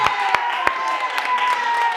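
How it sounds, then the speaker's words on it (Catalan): A small group claps together at a collective-thinking game session, a few sharp separate claps at first, then a looser patter of applause close by, with voices mixed in. "Molt bé, un aplaudiment."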